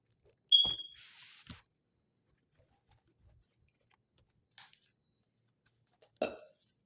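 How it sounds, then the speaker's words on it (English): A short high beep sounds, followed by a few scattered clicks and a low, croaky burp near the end, all isolated against near silence. "I had to let out a burp."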